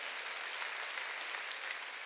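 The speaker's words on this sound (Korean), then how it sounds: "박수 쳐줘요" Steady applause from a church congregation during a worship service, continuous and dense clapping throughout with no speech over it.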